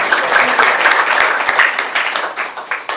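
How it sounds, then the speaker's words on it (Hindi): An audience applauds to welcome a guest at a morning devotional discourse, a dense, steady wash of many hands clapping that holds for the whole stretch without letting up. "तो इनका आप तालियां बजा के स्वागत कर दो।"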